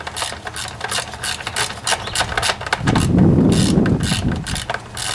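A ratchet tightening studs on a Homelite pressure washer with a Subaru EA190V engine gives rapid, close metallic clicking in short bursts, with a louder grinding rattle midway through, and no one talks.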